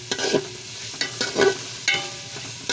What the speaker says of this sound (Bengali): চালটা আমি আগে থেকে ধুয়ে এটা একটু ভাজা ভাজা হয়ে যাক